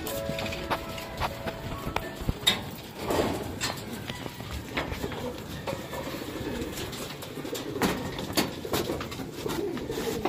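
Racing pigeons coo and flutter outdoors at their loft's landing board, with scattered taps and shuffles of birds landing, amid a steady ambient background.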